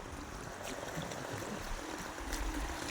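Floodwater flows into a house in a steady rushing wash, broadband and continuous with faint gurgles, close and moderately loud with no talk.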